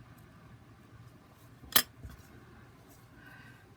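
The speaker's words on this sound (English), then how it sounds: "now I can cut the other one to the same size" A single sharp snip of scissors cutting material for gaited-horse quarter boots, close and brief, followed by a softer second snip in a quiet room.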